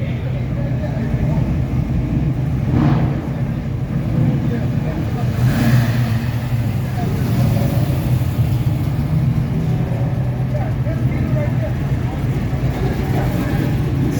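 A Ford 351 engine in a 1967 Camaro rumbles and revs loudly and close for the whole stretch, a steady deep drone that swells slightly at times, with people talking over it outdoors.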